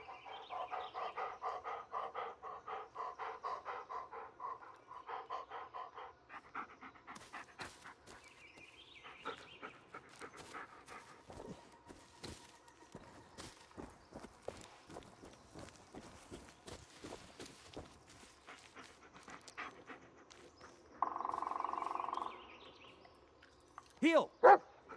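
Bullet the dog in Blair Witch pants in a steady rhythmic huff, with footsteps through a dark forest and a few short barks. The dog is close, and a voice speaks briefly between the sounds.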